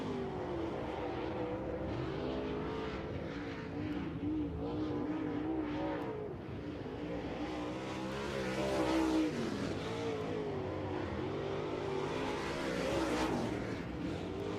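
Dirt late model race cars roaring around a dirt oval during a Lucas Oil Late Model Dirt Series race, a loud, continuous engine drone with rising and falling revs as the cars lap nearby, with no talk over it.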